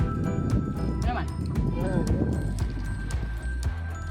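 Horses clip-clop steadily on a road, with a brief neigh rising partway through, while people talk nearby.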